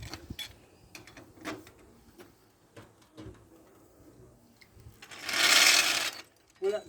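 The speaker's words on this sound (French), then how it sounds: "Voilà, j'enlève le cric." Car jack lowered and pulled out after a brake pad change, scattered mechanical clicks and creaks followed by a loud second-long ratcheting whir, with someone speaking French between the sounds.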